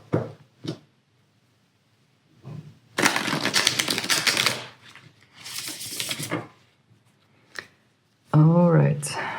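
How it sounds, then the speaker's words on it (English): Tarot cards being shuffled by hand, several short bursts of rapid riffling and flicking separated by pauses, close and crisp, with a brief spoken voice at the very end. "Just going to reshuffle my cards."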